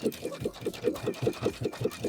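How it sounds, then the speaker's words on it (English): Sewing machine edge stitching along a dress shoulder strap, a quick regular needle thump repeating about five times a second, close and moderately quiet, with no talking. "I'm edge stitching right where this shoulder strap is."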